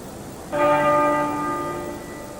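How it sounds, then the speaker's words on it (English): Westminster Abbey's tenor bell tolls once, a single deep, resonant strike heard at a distance whose rich ringing tone hangs and slowly fades. "the tenor bell tolled 101 times"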